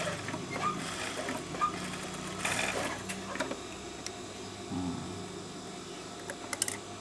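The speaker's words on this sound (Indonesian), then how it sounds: "Kita jahit pula pinggirannya saja." A sewing machine running steadily as it stitches along the edge of fabric, a continuous faint mechanical whir with small clicks and shifts in tone throughout.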